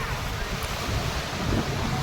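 Sea surf breaks against a stone jetty at the Paradip fishing harbour, a steady loud wash of water blended with heavy wind noise on the microphone, continuous without pause.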